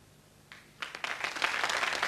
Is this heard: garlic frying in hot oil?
no